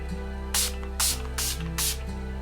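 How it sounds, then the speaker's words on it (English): Four short bursts of Urban Decay All Nighter makeup setting spray, misted from about 6 to 12 inches away, each a close, crisp hiss lasting roughly a quarter second, evenly spaced over a steady electrical hum. "I'm going to use the Urban Decay All Nighter Makeup Setting Spray. I'm going to go about 6 to 12 inches away from my face and just spray."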